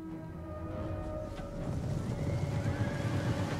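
Heavy cavalry in a Total War: Rome 2 battle: a horse whinnies loudly near the start, then rumbling hooves and battle din build underneath, with no talk.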